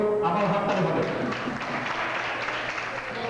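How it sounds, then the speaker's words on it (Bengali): Audience applause at a Bengali community Independence Day and Pohela Boishakh celebration in New York, a dense steady wash of clapping filling the room with continuous voices and talk mixed throughout. "আবার হাততালি হবে"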